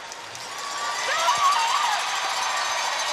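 An arena crowd at the 2018 World Women's Curling Championship bronze medal game cheers and applauds, a broad swelling roar that builds mid-way and holds, with a faint whistle-like tone rising over it.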